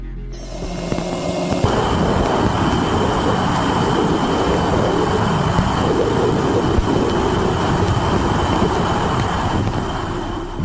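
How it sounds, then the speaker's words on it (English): Electromagnetic waves from Uranus picked up by Voyager 2's plasma wave antenna, heard as a dense, steady roaring hiss like distant rumbling, loud and unbroken after a brief quieter start, with no voices. "This is the sound of the electromagnetic waves coming from the gas giant Uranus,"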